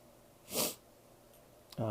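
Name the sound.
sniffling nose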